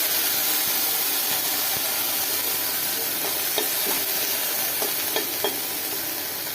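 Curry leaves sizzle in hot oil in a pan during vegetarian cooking. A steady, loud hiss continues throughout, with a few light clicks from stirring.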